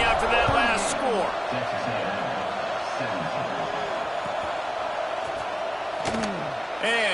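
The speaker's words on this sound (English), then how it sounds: "this crowd is buzzing after that last score" A stadium crowd at a college football game after a long touchdown return fills the background with a steady, broad roar while a commentator talks over it.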